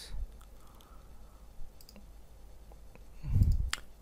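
Computer mouse clicks, a few faint isolated clicks spread apart in a quiet room, with one slightly louder thump near the end.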